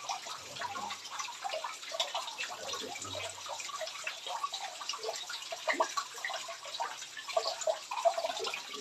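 Strong water flowing along a trail, a busy splashing and gurgling stream with constant small spatters and drips, fairly close and continuous throughout.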